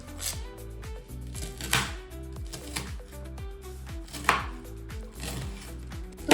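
Fried disco bhaji being cut into pieces on a board, a close series of crisp knife chops at a fairly regular rhythm, with no talk.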